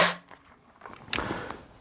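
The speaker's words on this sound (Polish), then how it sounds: "każdorazowo po naciągnięciu sprężyny oddaje strzał" A sharp snapping shot from a spring airsoft rifle at the very start, followed by quieter mechanical clicks and rustling handling noises.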